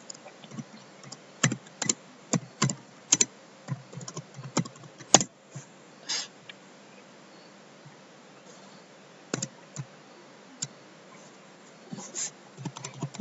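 Rapid, uneven bursts of keys clacking on a computer keyboard while text is typed into a publishing program, close and fairly quiet, with pauses between runs and no talking.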